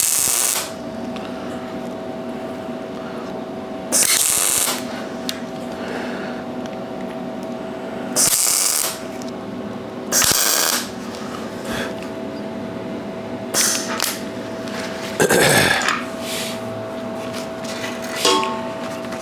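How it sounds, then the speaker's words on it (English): Short bursts of welding on a metal cow sculpture's tail crackle and buzz in several separate runs, each a few seconds long, over a steady background hum from shop equipment. "See if I can go and shoot another couple welds in."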